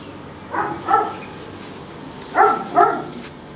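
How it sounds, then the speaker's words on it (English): A dog at a villa barks four times in two quick pairs, close by and moderately loud, with a low background hum between the barks. "that's the master dog"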